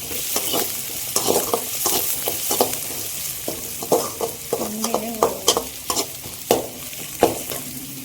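Onion and mixed vegetables frying in a pan for veg fried rice, a loud steady sizzle broken by repeated scraping stirs of a utensil at an irregular pace.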